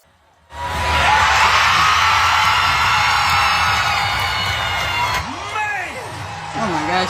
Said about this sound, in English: Cheer 'em on, crowd.